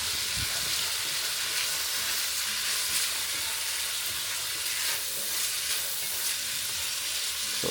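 Chopped vegetables for a chilli sizzle and crackle steadily in a hot pan, a continuous close hiss of frying with no talk over it.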